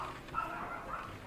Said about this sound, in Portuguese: O cachorro tá latindo por nada aqui